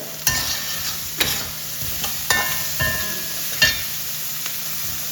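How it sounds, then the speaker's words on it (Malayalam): Capsicum stir-fries in a hot pan, a continuous sizzle punctuated by five or six loud, evenly spaced scrapes and tosses of the spatula. "അത് കഴിഞ്ഞിട്ട് വീണ്ടും നമ്മൾ ക്യാപ്സിക്കാണ് ഇട്ട് കൊടുക്കുന്നത്."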